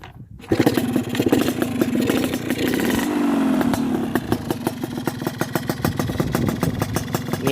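A motorcycle engine cranks and catches after a brief silence, then settles into a steady, loud idle with a rapid, uneven putter.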